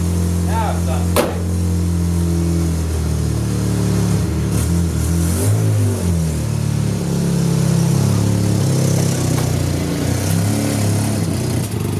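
A 1998 Ford Ranger pickup engine hums low and steady while driving, with a brief rev swell near the start, and a voice speaking over the engine drone throughout.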